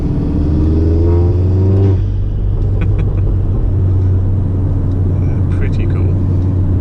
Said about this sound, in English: the turbo spool I get from this is ridiculous. The noise it makes.